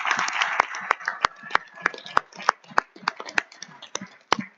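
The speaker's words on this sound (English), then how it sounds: "if we can give them all a round of applause for the incredible job they did." A small group at a town board meeting claps in a sparse round of applause, distinct individual claps spaced unevenly with some talk underneath.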